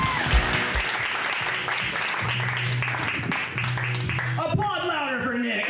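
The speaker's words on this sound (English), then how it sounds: "Applaud louder for Nick" A comedy awards audience applauds comedian Nick with loud, dense clapping and a few whoops, while voices and a host talk over it; a low electronic hum comes and goes beneath.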